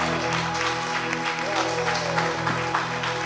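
Steady, dense clapping from a church congregation fills the whole stretch, with a voice talking over it.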